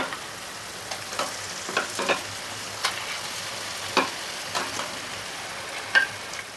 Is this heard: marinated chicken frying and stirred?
yes